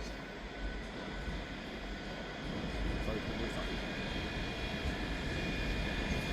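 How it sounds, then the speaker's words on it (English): A Scotrail train pulls into Edinburgh Waverley station, a broad low rumble that swells and grows louder partway through and holds steady near the platform. "Arriving in at the same time is the 11:58 Scotrail service terminating here at Edinburgh Waverley from Dunblane."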